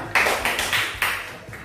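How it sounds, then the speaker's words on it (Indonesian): Brief applause for everyone at a school drug-awareness session, a few separate bursts of clapping in a hall. "Oke, tepuk tangan dulu untuk semuanya."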